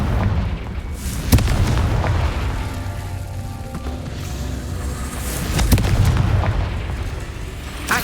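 The Confringo blasting spell detonates in Hogwarts Legacy, with two or three loud booming explosions, each a sharp crack followed by a deep rolling rumble.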